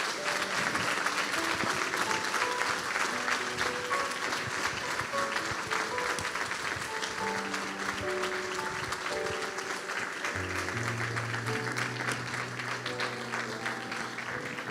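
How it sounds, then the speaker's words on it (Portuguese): A church congregation applauds steadily for the whole stretch, broad sustained clapping from many people with sustained musical tones underneath. "Vamos aplaudir a Deus."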